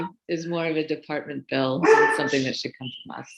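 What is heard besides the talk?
dog barking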